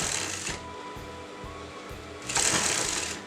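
A sewing machine stitches a Patiala salwar in steady bursts, with a soft rhythmic needle chatter that pauses briefly and then runs louder again near the end.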